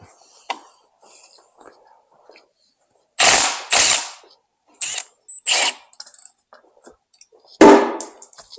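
Ratchet wrench loosening a bolt on a Ford Ranger engine block during short block disassembly, giving several loud, close bursts of rapid clicking separated by quiet gaps.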